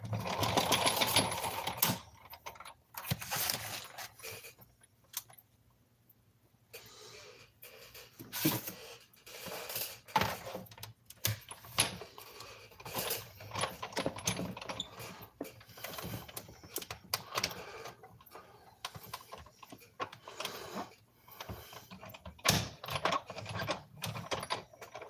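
A small round shape, roughly 5/8 to 3/4 inch across, is die cut from paper for a card, giving a close, ongoing run of mechanical whirring, rolling and clicking with uneven pauses.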